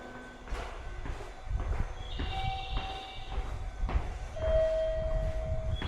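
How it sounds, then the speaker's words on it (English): A train moves through a Japanese station, a low rumble of rolling wheels with rhythmic clacks and a few sustained squealing tones, moderately close and steady. "I could theoretically take this train actually, which also goes to Okayama"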